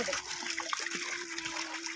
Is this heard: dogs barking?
no